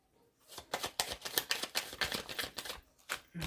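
Tarot cards shuffled by hand at close range, a quick riffling series of crisp flutters and taps lasting a few seconds, with no talking over it.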